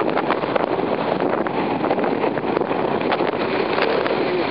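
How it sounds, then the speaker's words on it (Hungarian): Wind buffets a camera microphone during an outdoor Sunday run in Senta, producing loud, continuous roaring and rumbling gusts that fill the whole clip with no audible speech. "Látszik, mennyire fújja szél kamerát"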